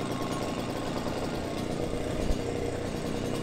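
Small petrol engine on homemade motorized roller skates running, a quiet, steady buzzing putter held at low throttle with choke, fairly distant and alone.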